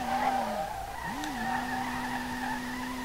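Nissan R32 drifting in the SLRR racing game, a steady high tire squeal that breaks briefly and resumes, sustained over a constant engine drone.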